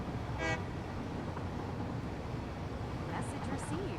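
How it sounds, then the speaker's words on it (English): A vehicle horn toots in the Satisfactory video game, with a short honk early and a couple of brief high blasts near the end, heard over steady game ambience and engine rumble. "I'm honking the horn"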